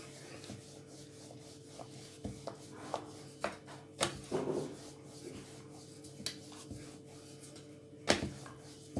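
Mathri dough being rolled out with a rolling pin, heard as quiet rubbing and scraping strokes with scattered soft knocks and taps on the board, close and faint over low background hum.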